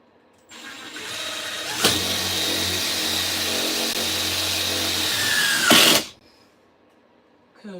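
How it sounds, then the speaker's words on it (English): Power drill driving screws into a thick van curb during a tiny-home van build: one steady loud whirring run of about five seconds, with a sharp click at the start and a brief louder surge before it stops abruptly. "So I'm gonna put my screws."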